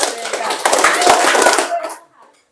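A group of people claps a rhythmic pattern in unison, a loud, busy run of hand claps blended with voices. It lasts under two seconds, then drops to near silence with a faint trailing sound.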